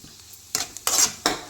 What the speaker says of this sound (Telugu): ఇప్పుడు దీంట్లోనే మనము ముందుగా ఫ్రై చేసి పెట్టుకున్న ఎగ్ మిక్స్చర్ని కూడా వేసి ఈ మసాలా ఇదంతా పట్టేట్టు మంచిగా ఫ్రై చేసుకోవాలి